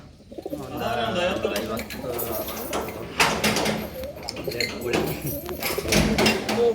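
Several kept pigeons coo repeatedly in low, throaty, rolling calls inside a room at Dalmia Ghat in Harihar. The cooing is close and overlaps with people talking and occasional knocks.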